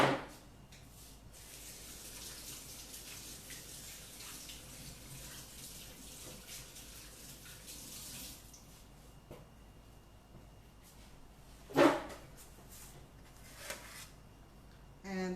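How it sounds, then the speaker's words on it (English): Tap water runs steadily into a sink as hands are washed under it, a soft continuous splashing stream with a few louder splashes and brief knocks near the end. "Okay, so just let me wash my hands."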